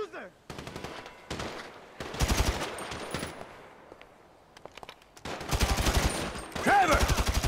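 Grand Theft Auto 5 gameplay carries bursts of automatic gunfire, loud rapid volleys separated by brief pauses, with clipped in-game voices in between.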